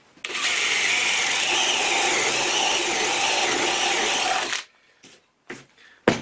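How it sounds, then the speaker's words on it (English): A power drill fitted with a large spade bit bores a wide hole through timber: a loud, steady whirring grind for about four seconds, then it stops and a few short knocks and handling noises follow. "your spade bits are for making large diameter holes in timber, just like this"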